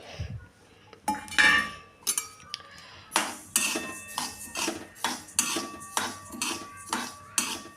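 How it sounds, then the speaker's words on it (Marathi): Flax seeds being stirred and roasted in a kadhai over a low flame, with a run of regular metallic scraping clinks from a spatula against the pan, close and fairly loud, with no talking. "ग्लॅसचा फ्लेम आपल्याला कमी ठेवायचा आणि हे जवस आपल्याला याच्यामध्ये व्यवस्थितरित्या परतून घ्यायचं आहे"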